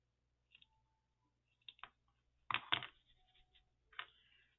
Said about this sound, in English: these scissors don't seem so strong.